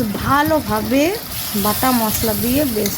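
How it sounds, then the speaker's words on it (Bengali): Ground spice paste sizzles and crackles in hot oil as it fries for a thin fish curry with potato and pointed gourd, a steady hiss running beneath a voice talking close by. "কষিয়ে নেব যতক্ষণ না মশলা থেকে তেল ছাড়ে"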